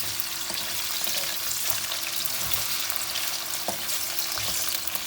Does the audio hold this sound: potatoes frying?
yes